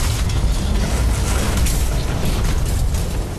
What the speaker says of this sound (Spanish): Una explosión ha destrozado una tubería en la sala de bombas.